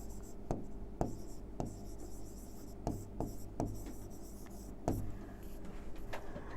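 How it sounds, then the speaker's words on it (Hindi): Pen scratching across paper in a quiet room, short strokes with small taps, steady rhythm and close, with no voices. "मैं इतना ही लिख दे रही हूं।"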